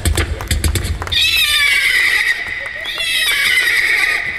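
A voice imitates a horse, first rapid clip-clop galloping sounds, then two long high neighing whinnies, loud and close before an audience at an opening ceremony.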